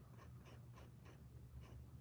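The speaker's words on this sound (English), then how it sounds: "maybe I should shut up and just draw so y'all can hear the pencil" A pencil scratches across paper while drawing a portrait, about five short, soft strokes in a steady rhythm, faint and close in a quiet room with a low hum behind them.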